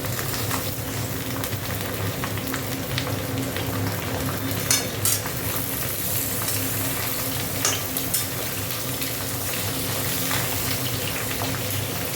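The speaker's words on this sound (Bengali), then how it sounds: "এখানে দেখো আলুটা ভাজা হয়ে গেছে, ঝিঙেটা দিয়ে দিচ্ছি" Ridge gourd added to a pan of already fried potatoes, a wet, bubbling sizzle with steady stirring and spatula scrapes, a few sharper clinks along the way, close and continuous without talk.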